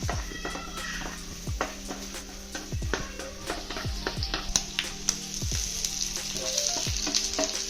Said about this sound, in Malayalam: ഉള്ളി നന്നായിട്ട് മൂത്ത് വന്നിട്ടുണ്ട്